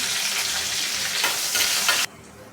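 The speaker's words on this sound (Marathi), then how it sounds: "मस्त अशी फोडणी छान अशी कुरकुरीत झालेलं आहे लसण वगैरे आणि कढीपत्ता" Garlic and curry leaves crackle and sizzle loudly in hot oil for a tempering, a dense continuous fizz with slight stirring surges that cuts off sharply near the end.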